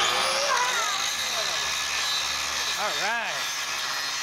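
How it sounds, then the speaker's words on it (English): A Milwaukee 12 amp mini grinder runs continuously with a loud, steady high whir and harsh grinding noise, close by, while someone talks over it. "The Milwaukee 12 amp mini grinder."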